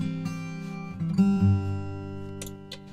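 A Martin acoustic guitar rings out with sustained chords and a few plucked notes, clear and close, followed by light tapping or string noise.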